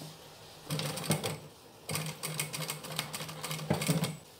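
Sewing machine stitching a neckline edge beside a zipper on a child's dress, running in three quick bursts of rapid mechanical clatter separated by short pauses, close and clear with no talk.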